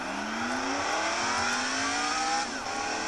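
Race car engine from the PC game NASCAR Thunder 2003 drones loudly and steadily, its pitch climbing smoothly through the gears before dipping briefly near the end, with no voices.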